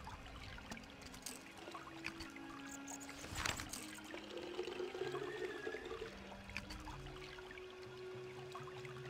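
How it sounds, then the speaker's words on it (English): Water trickling and splashing in the video game Indiana Jones and the Emperor's Tomb, a faint, quiet stream running continuously with a brief louder splash near the middle and low game tones beneath. "I can use this water to fill up my canteen."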